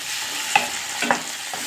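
Chopped tomato, a cupful, sizzles in a pan while cooking down for a pasta sauce, with a steady soft frying hiss and a few light stirring scrapes, close and alone.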